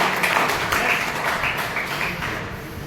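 A lecture audience at a B.Ed. college in Bhadra, Rajasthan, breaks into steady clapping that fills the room for about three seconds, dense and even, with no voice on top.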